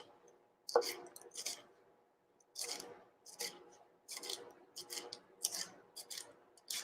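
Knife slicing green onion ends on an angle, a series of soft, close crisp cuts in uneven clusters against a quiet background.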